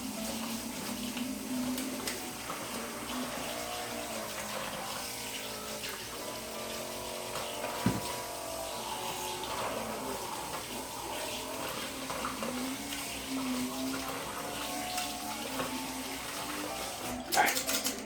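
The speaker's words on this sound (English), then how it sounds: "we're going to wash it out because there's peanut butter in it." A cookie scoop is rinsed of peanut butter under a running kitchen tap, with a steady, continuous stream of water splashing for the whole stretch and a brief clatter near the end, while people talk quietly in the background.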